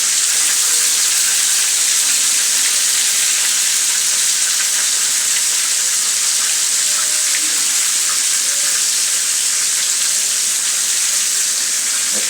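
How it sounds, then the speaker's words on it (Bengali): Loitta fish (Bombay duck) fries crisp in oil with a loud, dense, unbroken sizzle that holds steady from start to finish. "ভালো করে একদম কড়কড়া ভাজি করতে হবে।"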